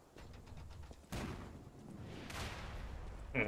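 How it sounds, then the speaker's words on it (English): Cannon fire in a swampy stretch of Lies of P, two sharp booming shots a second or so apart, each with a brief rumbling tail, followed by a faint higher clink. "He's using some kind of a cannon."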